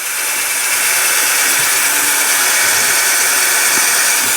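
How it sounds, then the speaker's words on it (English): Hand drill boring through hard, thick steel during a vintage mini tractor restoration, a steady, loud, grinding whine that holds evenly for several seconds with no talk. "I don't know whether this drill will go through or whether I've got to use an electric drill"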